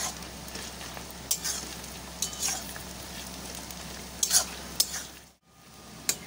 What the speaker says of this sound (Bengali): তো চলো খাসির চর্বিটা ভালো করে পেঁয়াজের সাথে একটু ভেজে নিই।